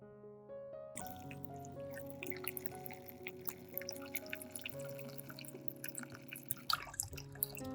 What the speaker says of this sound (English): Add boiling water.